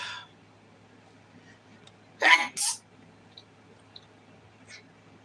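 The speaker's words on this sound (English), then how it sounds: "And I even sneeze again." A single sharp sneeze bursts out close by against a quiet background, followed by a brief sniff and faint small noises.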